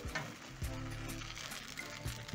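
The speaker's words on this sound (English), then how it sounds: "immediately you add the butter, you're going to spread the butter around in the pan" Butter sizzles in a hot crepe pan, giving a soft, close frying hiss with faint scraping and stirring bursts as it is spread around. No one talks.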